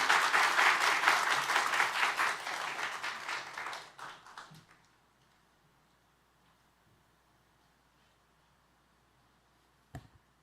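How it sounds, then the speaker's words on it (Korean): Audience at a church coming-of-age service applauding to welcome a speaker, a dense burst of clapping that fades out after about four seconds, leaving a quiet room with one faint knock near the end. "박수로 맞이하겠습니다"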